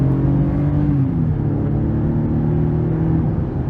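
A 2022 Chevrolet Colorado extended cab WT pickup with the 3.6 engine accelerates on throttle, its steady engine drone shifting pitch as it climbs, heard continuously from inside the cab.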